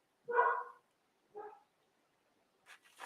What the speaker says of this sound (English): Sorry if you hear the dogs. They're upstairs by themselves.